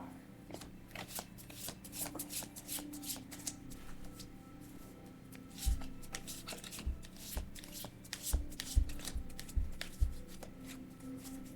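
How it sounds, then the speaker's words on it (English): Oracle cards being shuffled by hand, a continuous run of crisp riffling and flicking with a few soft taps as the deck is squared, close and fairly quiet with no talking. "think I'm going to pull a clarifier with the oracle cards."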